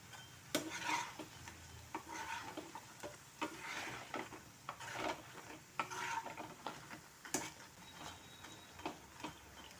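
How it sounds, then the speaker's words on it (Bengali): Battered papad fries in oil, giving off soft, uneven crackles and bubbling with scattered sharp clicks of utensils, fairly quiet and close with no talking. "একটা ব্যাটার গুলে পাঁপড়গুলি ভেজে নিলেই হলো।"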